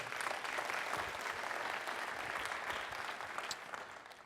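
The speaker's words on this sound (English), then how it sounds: "Again, applause, please, for all of that great work." Town hall audience applauding, a faint but continuous patter of many hands clapping together, even in density from start to finish with no voices rising above it.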